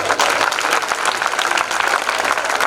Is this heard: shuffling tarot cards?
no